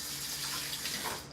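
Water runs from a kitchen tap over something being rinsed in the sink, a close steady splashing gush that tails off at the end.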